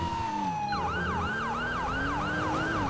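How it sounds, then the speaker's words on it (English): An emergency vehicle siren in a video game roleplay wails loud and close, shifting from a long falling tone into a rapid repeating yelp cycle over a low engine rumble. "we get to listen to Fred's sirens that he had sent me"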